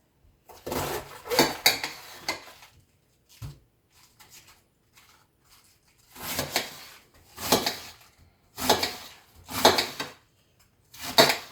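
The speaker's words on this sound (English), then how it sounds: "I am going to chop a little bit more here" A knife chops cabbage on a board in clustered bursts of sharp, close knocks, separated by short quiet pauses.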